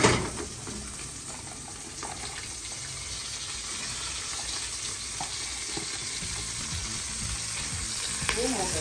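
Tripe stew ingredients for Brazilian dobradinha tumble into a hot pot and set off a steady, close sizzle that lasts throughout, with a small clatter near the end and no talking.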